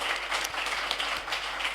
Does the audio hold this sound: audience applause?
yes